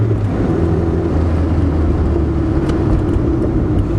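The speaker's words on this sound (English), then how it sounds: "Put it to the boards now." A car engine is floored in third gear, its steady low drone building gradually as the RPM climb, loud and continuous with no talking.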